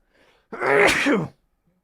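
A single loud, close sneeze during a podcast recording, bursting out after a faint intake of breath, then quiet.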